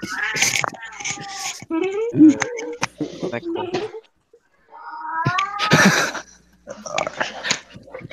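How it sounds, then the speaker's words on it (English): An angry cat yowls and caterwauls in drawn-out wavering cries, two loud bursts separated by a pause, mixed with people talking nearby. "That's a cat, right? It's an angry cat."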